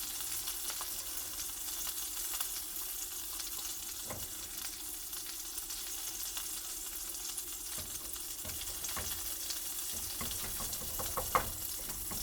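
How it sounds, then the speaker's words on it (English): Scrambled eggs fry in a pan, giving a steady, quiet sizzle with occasional soft clicks and stirring sounds, and no talking. "I gotta check on the eggs real quick."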